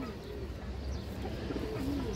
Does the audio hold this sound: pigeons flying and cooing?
yes